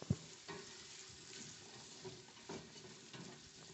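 Chopped onion fries in a pan as the base for mussels cooked in wine and garlic, giving a steady, quiet sizzle with faint stirring scrapes and a small clack at the start, with no talking.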